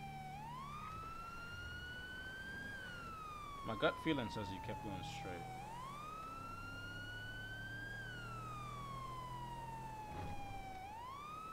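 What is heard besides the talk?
police car sirens in video game GTA V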